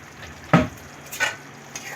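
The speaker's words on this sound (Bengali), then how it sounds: "আবারও ভালো মতো মিশিয়ে দিচ্ছি।" Okra frying in a pan with mustard, poppy seed and cashew paste is stirred, giving a few short scraping, sizzling strokes of a spoon against the pan over a soft steady frying hiss, close and moderately loud.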